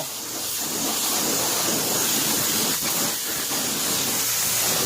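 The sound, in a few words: homemade pressure washer lance spraying engine parts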